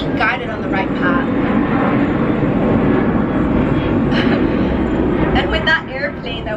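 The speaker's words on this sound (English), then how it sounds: "with that airplane that we hear in the background" An airplane's engine drone runs steadily throughout, heard outdoors at a spiritual retreat bonfire ceremony, with a person talking over the continuous rumble.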